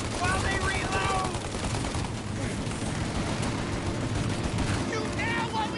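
Sustained gunfire in the crime game Mafia, a dense, loud run of rapid shots and bursts with shouted voices over the top during a car shootout.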